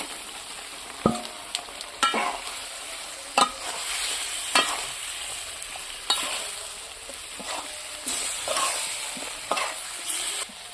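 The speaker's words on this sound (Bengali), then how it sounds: "ফুলকপি ভাজা ফুলকপি আলুতে এখন দিয়ে দিলাম" Cauliflower and potatoes are stirred and fried in a spiced curry, village style: a soft continuous sizzle broken by sharp spoon scrapes against the pan about once a second, close and fairly quiet.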